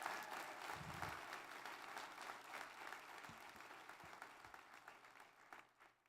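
Applause from an audience at a county inauguration ceremony in Kona, Hawaii, steady and fairly distant, fading toward the end with a few low thumps.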